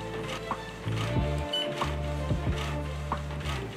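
A Canon MAXIFY GX3000/GX4000 inkjet printer runs a print job with a steady low motor hum, repeated mechanical clicks and shuttling thumps, heard up close with no talking.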